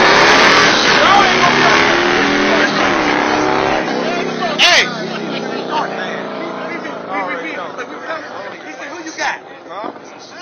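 Race cars at a street race roar loudly past, engines revving hard with rising and falling whine as they pass close by and fade, while people talk and shout over the noise.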